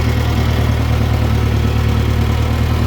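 A tractor engine, fitted with a newly added exhaust, runs steadily at idle with an even low throb, close and continuous, with no voices.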